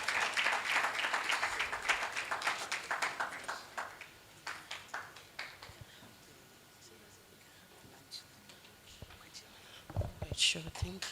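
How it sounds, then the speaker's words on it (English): Conference audience in Ghana applauding, a dense burst of clapping that thins into scattered claps and fades, with murmured talk and a brief renewed clatter near the end. "Let's give them a hand of applause for a good work done."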